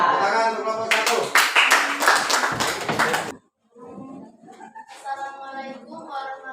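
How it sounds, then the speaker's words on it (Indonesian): A classroom group claps for the first student presentation team, a short burst of dense hand claps mixed with voices before it stops abruptly, then talking continues. "Tepuk tangan untuk kelompok 1."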